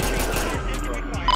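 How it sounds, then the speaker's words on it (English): A quick burst of gunfire rings out in the GTA V police mod LSPDFR, several short shots clustered together at close range, followed by a brief tone at the end. "shots fired, shots fired."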